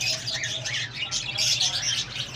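Lovebirds, cockatiels and budgies in a breeding room keep up a dense, continuous chatter of squawks and chirps, moderately close and with no talk.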